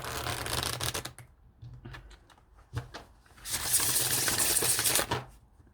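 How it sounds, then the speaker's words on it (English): A tarot deck being overhand shuffled by hand, giving bursts of rapid papery riffling and slapping card sounds separated by short pauses, close and fairly quiet. "once I have them mixed, I can just overhand shuffle"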